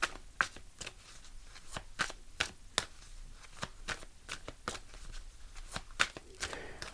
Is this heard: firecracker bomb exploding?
no